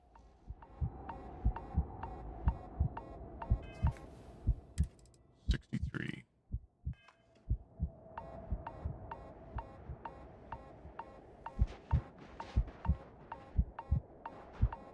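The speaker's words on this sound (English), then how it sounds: "Heartbeat speeds up." Steady thumping heartbeat from low health in the video game Starfield's survival mode, regular paired beats that run throughout over a low hum and keyboard clicks, briefly broken by a burst of noise midway.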